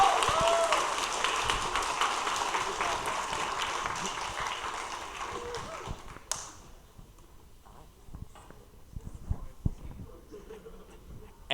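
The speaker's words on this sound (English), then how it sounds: "can we just get another round of applause for this semester's amazing leads?" An audience at a student video game development club meeting applauds loudly for several seconds, then the clapping dies down to scattered claps and faint voices.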